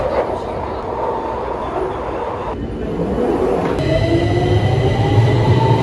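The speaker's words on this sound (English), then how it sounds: "there is another train coming in" A London Underground train pulls into Regent's Park station, a loud rumbling roar with rising tonal whine and squealing wheels as it arrives close by.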